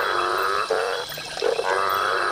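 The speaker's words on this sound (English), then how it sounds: "Rain stimulates thousands of frogs and toads to sing and look for a mate." Many frogs and toads call together after rain in a dense, steady chorus of overlapping croaks and trills, fairly close and continuous, with no voices.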